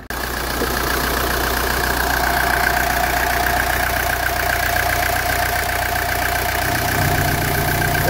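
A 1982 Mercedes 240D diesel engine idles during a blow-by test on a low-mileage engine, a loud, steady clattering idle heard up close with no talking, shifting slightly in tone near the end.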